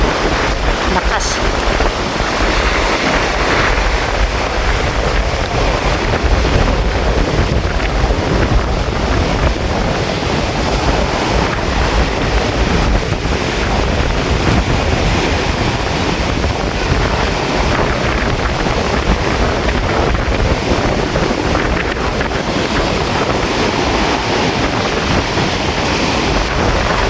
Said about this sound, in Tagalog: Malakas ang hangin. Ang laki ng tubig.